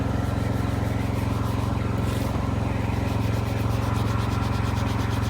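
A steady rough rubbing scrape of a hand over gritty, contaminated paint on a BMW M5, continuous and close, with a low hum underneath.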